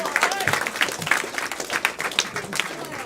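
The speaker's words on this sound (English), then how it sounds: "Clap for them, everyone." An audience claps for performers at the end of a timed comedy or improv scene at a live show, steady scattered clapping with some voices mixed in.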